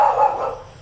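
A white dog gives a few quick, sharp barks close by, loud at first and then tapering off, with no talk.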